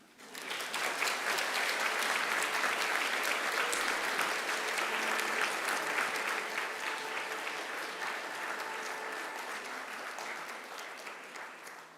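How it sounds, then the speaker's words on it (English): Graduates at a Macquarie University ceremony turn to face their families and friends and give them a mighty round of applause: a dense, sustained wave of clapping from a large crowd that swells quickly and slowly fades over about ten seconds. "give them a mighty round of applause"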